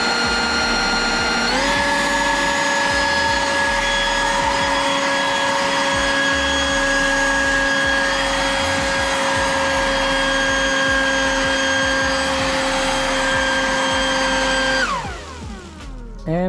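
Toro 900 CFM battery handheld leaf blower running, a loud steady whining roar that steps up in pitch early on, holds, then winds down near the end.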